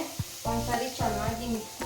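Hot oil sizzles and crackles as spices hit the pan, with bursts of stirring and clattering over a steady hiss.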